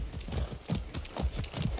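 Steady clip-clop of horse hooves at a brisk trotting rhythm in the video game Far Cry 6, close and clear, with no voices.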